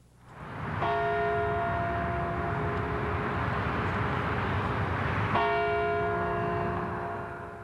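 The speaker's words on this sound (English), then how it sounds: "But the bell is now restored." Restored Clinton County Courthouse bell ringing, two loud, resonant strikes about four and a half seconds apart, each leaving a long sustained hum that carries between them with no voices.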